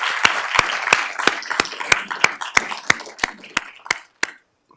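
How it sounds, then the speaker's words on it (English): Sparse, slow applause at a board of supervisors meeting: about a dozen distinct, evenly spaced hand claps that thin out and stop, followed by silence. "Let's clap now. Let's do it."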